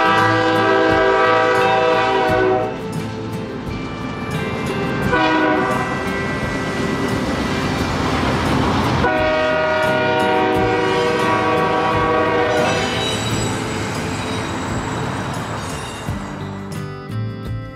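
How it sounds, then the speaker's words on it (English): A freight train rolls past along Route 66 in Gallup, New Mexico, with loud repeated horn blasts over the rumble and clatter of rail cars, close and dominant, fading slightly toward the end. "After the train passed,"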